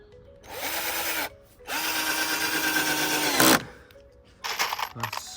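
A cordless power drill drives screws into pallet-wood decking in a garden: two sustained whirring runs that bog down and stop, then a brief final burst with clicking.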